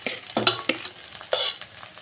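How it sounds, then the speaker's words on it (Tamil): A spoon stirring dal and grated coconut through hot ghee in a pan, giving short scraping strokes over a soft, steady sizzle, close up with no voices. "இப்போ அந்த தேங்காயோட சேர்த்து நல்லா மிக்ஸ் பண்ணலாங்க அந்த பருப்பை"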